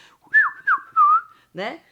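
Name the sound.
whistling imitating a bird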